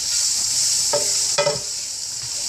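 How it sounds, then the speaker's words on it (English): Green onions and carrots stir frying in a pan with butter, a loud steady hiss of sizzling with a couple of brief clinks of a utensil against the pan, close and without talk. "my green onions and my carrots should be ready. So I'm just where I need to be. You see that? It's nicely stir fried."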